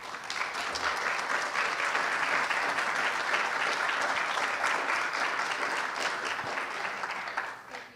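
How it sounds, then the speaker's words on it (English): An audience applauds after a keynote presentation on neighborhood change, dense steady clapping filling the room for about eight seconds before tapering off at the end. "Another round of applause for Alan."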